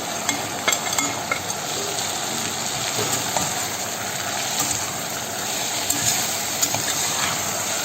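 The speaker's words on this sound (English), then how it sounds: "which we are going to saute a little bit. Add all the tomatoes which are chopped." Chopped tomatoes sizzle in a hot pan over sautéed ginger, a steady hiss with occasional crackles and pops, fairly close and moderately loud, with no talking.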